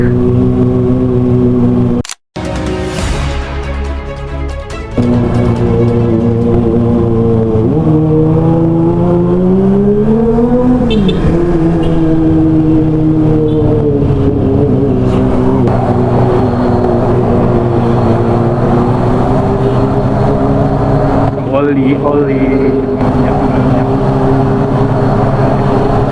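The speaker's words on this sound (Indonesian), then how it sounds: "Dua truk menanjak." Two trucks labor up a steep, accident-prone mountain road, their loud, close engine drone sustained throughout with slow shifts in pitch as they strain uphill, and no talking.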